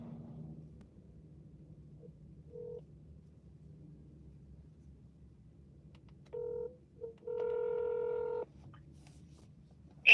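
Telephone keypad tones sound alone over a faint low hum: a brief beep, then a pair of steady dual-tone presses, one short and one longer, followed by a sharp click at the end.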